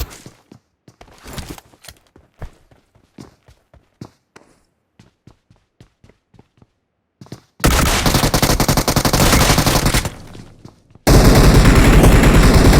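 DBS double-barrel shotgun and other gunfire in a battle royale mobile game: sparse sharp shots and footstep clicks, then two dense bursts of loud rapid automatic fire near the end.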